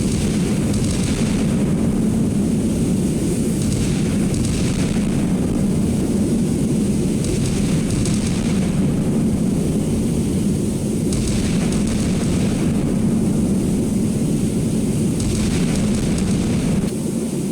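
Naval 5-inch guns fire and shells explode in the Sea Power naval combat game, a continuous loud rumbling roar with periodic heavier booms layered throughout, no voices.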